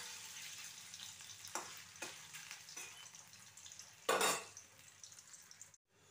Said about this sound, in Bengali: একদম লো আঁচে ভাজতে হবে, নাহলে মাংসগুলো ভেতর পর্যন্ত ভাজা হবে না।